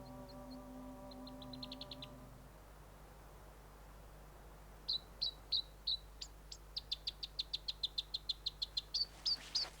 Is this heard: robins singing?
yes